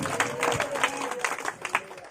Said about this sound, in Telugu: చప్పట్లు కొట్టి దేవునికి స్తోత్రం